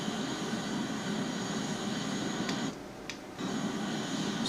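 Bombardier Learjet engine noise in Flight Simulator X, a steady broadband jet roar heard from outside the aircraft near London Heathrow, dipping briefly near the end before returning at full level.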